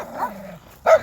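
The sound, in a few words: yipping dogs barking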